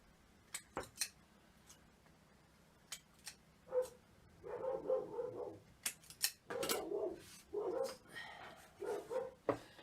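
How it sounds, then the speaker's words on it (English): Several dogs bark in repeated bursts and short volleys at moderate distance indoors, with some yips and whimpers between sharp clicks and handling noises. "Sorry if you hear the dogs. They bark at everything these days."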